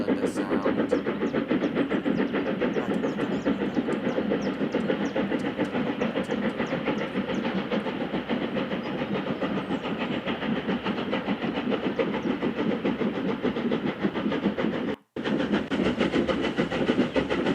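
A three-cylinder steam locomotive hauls a train past, giving a loud, continuous rhythmic chuffing and rumble with rail clatter. It stays steady throughout apart from a sharp momentary dropout near the end.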